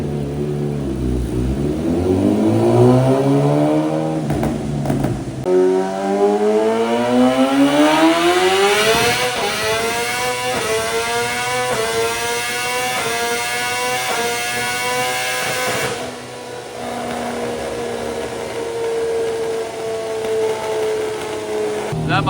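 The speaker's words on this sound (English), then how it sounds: "That might be the loudest dyno I've ever heard in my life." BMW M1000RR superbike revving hard on a dyno: a loud, sustained engine wail that dips, then climbs steadily in pitch through a long full-throttle pull before easing off, with voices faintly underneath.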